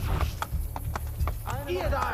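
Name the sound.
horse hooves in video game Assassin's Creed Brotherhood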